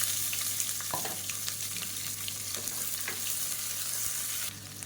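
Onions sauté in a pan for a vegetarian parotta-shop salna, giving a continuous, even sizzle and crackle with occasional stirring scrapes until the frying quiets slightly near the end.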